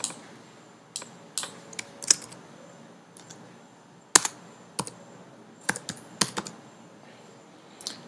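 Alt and Shift keys on a computer keyboard are pressed in sparse, irregular clicks, a dozen or so sharp taps spread over several seconds, close and fairly quiet against a faint room hiss.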